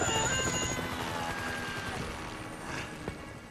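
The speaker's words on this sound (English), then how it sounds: "Bring down the chopper, Trev." Helicopter in Grand Theft Auto 5: a steady loud rotor drone with a fast rhythmic chop, fading slightly, with a faint sharp crack near the end.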